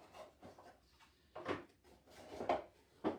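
Fabric or wooden drawers are pulled out of a box cube storage unit, giving several soft scraping and sliding bursts at an uneven pace, close by and fairly quiet.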